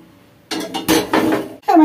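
A pot of water set down on a stovetop, giving several close metallic clanks and knocks of cookware in a short burst.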